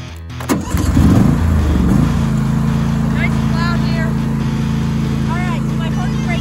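A John Deere S220 lawn tractor engine cranks and catches, then settles into a loud, steady low idle close by, with faint squeaky sounds over the running engine.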